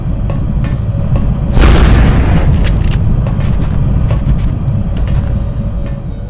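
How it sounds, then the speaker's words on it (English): Cannon fire in the turn-based strategy game XCOM: Enemy Unknown: one loud, deep blast around the midpoint rising over a dense, continuous battle rumble, with sharp smaller cracks scattered after it and no talk. "Switch to cannon and blast away."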